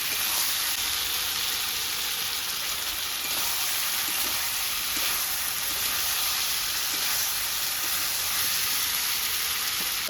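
Steady, even sizzle of chopped tomato hitting hot oil in a frying fish curry, a close continuous crackling hiss with no talking.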